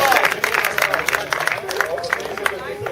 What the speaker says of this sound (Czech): Velký potlesk, Bobo tým.